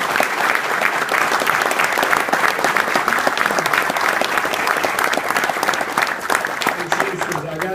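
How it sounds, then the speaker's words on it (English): An audience at a military ceremony gives sustained applause for family members, dense clapping continuing steadily from start to finish, with some voices mixed in toward the end. "let's give a great round of applause for our family members"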